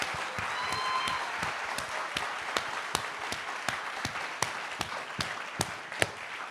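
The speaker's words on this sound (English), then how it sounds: "Let's give another round of applause to our wonderful friends." An audience at a full moon ceremony claps for several seconds in a steady, moderately close round of applause, with a few louder individual claps standing out near the end.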